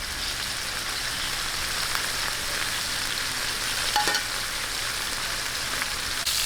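Steady crackling sizzle of chicken frying in oil in a pan, continuous and close, with a few faint pops and no talking.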